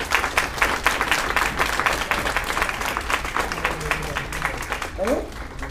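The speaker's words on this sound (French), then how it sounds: "Et on va applaudir le frère." Applause from a crowd at a town sports merit awards ceremony in Andenne, steady dense clapping throughout, with a voice speaking near the end.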